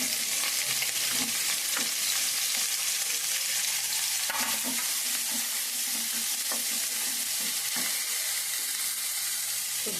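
Garlic cloves and onion fry in an oil-filled pan, giving a steady, close crackling sizzle for the whole stretch with occasional spatula scrapes and clinks, no voices.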